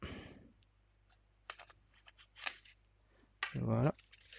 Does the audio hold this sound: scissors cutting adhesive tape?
yes